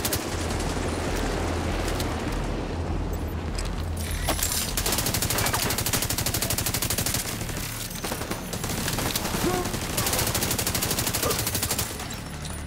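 Incoming bullets and sustained machine-gun fire aimed at the player in the video game The Division 2, loud continuous bursts of shots close by with brief lulls.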